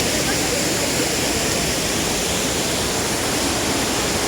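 River water rushes steadily near the Puncak Ciguntur hiking trail, a dense, even roar of flowing water with no breaks, close and fairly loud.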